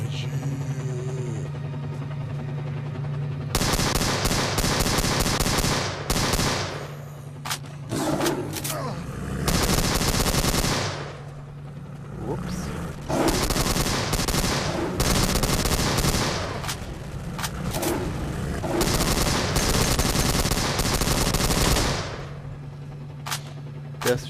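Gunfire in the video game S.T.A.L.K.E.R.: Shadow of Chernobyl, loud sustained bursts of automatic weapon fire in several long volleys separated by short lulls, with game sounds and some talking mixed in.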